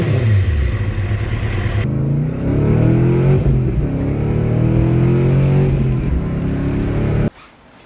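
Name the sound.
rust-powered motorcycle engine warming up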